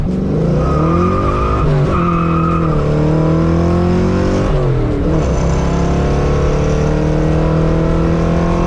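A Ford Capri Foxbody car with 3.55 gears drives hard and close, its engine note rising and falling through gear changes with a loud, steady roar and some tire noise, no talk.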